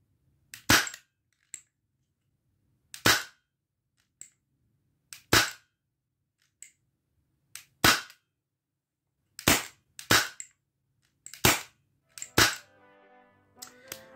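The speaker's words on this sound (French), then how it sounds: "Donc 4 tirs avec silencieux." An Umarex Beretta 92 FS XX-Treme air pistol fitted with a silencer fires a series of sharp, spaced cracks close by, each one short and dry, with quiet gaps between them.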